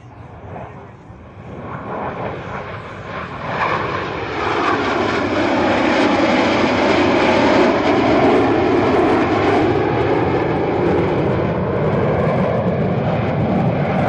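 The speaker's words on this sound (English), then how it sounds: "The Blue Angel Diamond will momentarily be making its approach from the right." The Blue Angels' four-jet Diamond formation sweeps past at a 2019 air and space show, its jet roar swelling from a distant rumble into a loud, sustained, rushing blast that holds to the end.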